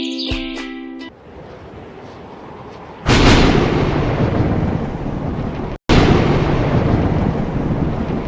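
Cartoon storm sound effect of strong forest winds and thunder: a short tonal intro, then a dull rushing gust, then a loud sustained roar of wind and rumble that cuts out briefly and returns.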